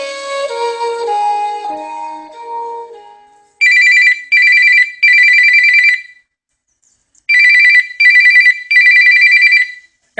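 A telephone rings indoors in a domestic drama scene, loud and near in repeated double bursts with short pauses, after a stretch of musical tones at the start; no voices during the ringing.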